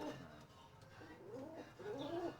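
Pensum strain roller pigeons cooing in two clear, rolling phrases, close and fairly loud, over a low background murmur.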